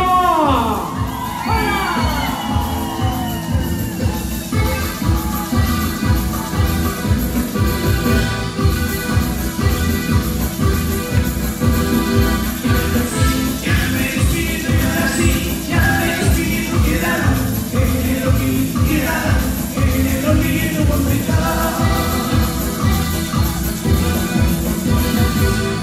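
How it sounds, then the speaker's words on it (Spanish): A large audience at a Guaracazo music event in the USA shouting and cheering loudly and continuously, with whoops over a pulsing musical beat. "quiero escuchar el grito"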